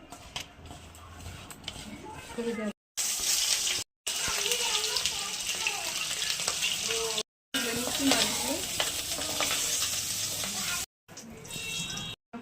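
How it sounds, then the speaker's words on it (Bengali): Shing fish fry in oil with turmeric in a wok, a dense, close, steady sizzle broken by a few brief cuts in the recording. "মাছগুলো ভেজে নেব।"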